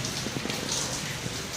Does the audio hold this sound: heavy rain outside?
yes